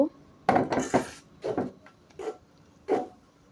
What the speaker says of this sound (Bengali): এখন সবগুলা উপকরণকে ভালোভাবে নাড়াচাড়া করে মিশিয়ে নিব